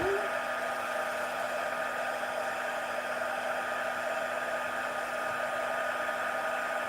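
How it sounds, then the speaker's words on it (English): A heat embossing tool heating embossing powder on black cardstock, a steady close electric blower hum with a faint tonal whine, continuous and unbroken, with no talk. "going to heat up my heat tool."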